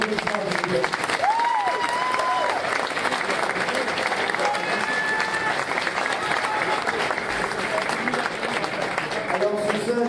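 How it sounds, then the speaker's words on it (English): A crowd at an amateur K1 kickboxing night applauds loudly and steadily for about ten seconds, a dense wash of clapping mixed with cheers and voices throughout. "Alors on leur donne un gros main d'applaudissement."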